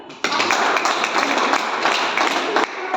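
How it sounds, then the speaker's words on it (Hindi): An audience breaks into loud, dense applause that starts abruptly, holds steady and cuts off near the end. "आपके लिए जोरदार ताली।"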